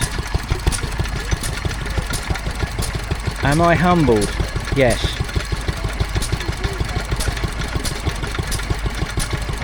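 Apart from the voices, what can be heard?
Wolseley stationary engine running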